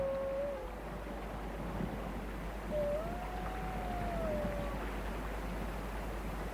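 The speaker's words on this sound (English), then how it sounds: "The pack is spread out, but keeps in touch by howling from time to time." Arctic wolves of a spread-out pack howl across open country, two faint, distant, drawn-out rising howls carried over a steady low wind.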